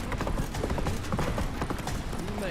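Roach, the horse in The Witcher 3, gallops in fast steady hoofbeats, close and loud, while game sounds and a voice run faintly underneath.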